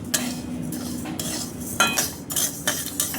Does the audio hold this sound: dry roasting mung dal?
yes